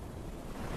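Powerful ocean waves off the Fiji islands surge in a steady, dense wash of surf, with wind buffeting the microphone, and no voices.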